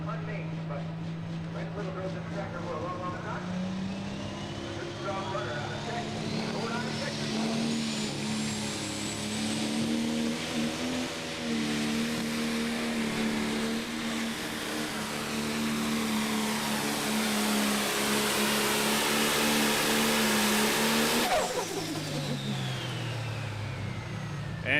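A Super Stock diesel truck, the Bulletproof Buck, drags a sled at a truck pull, its engine roaring loud and steady for over twenty seconds with rising pitch before cutting off abruptly.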